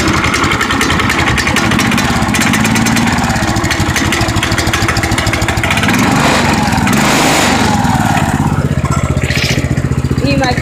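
A Scorpion go-kart engine runs loud and close throughout, a continuous buzzy small-engine drone with shifting pitch, while a person talks over it.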